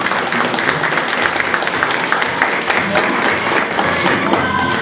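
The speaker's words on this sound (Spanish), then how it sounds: "Así que un aplauso para él." Audience applause at a gala welcome dinner honoring the Nicaraguan ambassador, steady dense clapping filling the room throughout, with voices mixed beneath.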